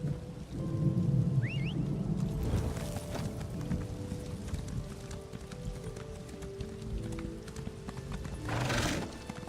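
Horse hooves clip-clop steadily in Elder Scrolls Online Morrowind, a rhythmic trot close by with rain and rumbling thunder beneath and a brief whinny-like burst near the end.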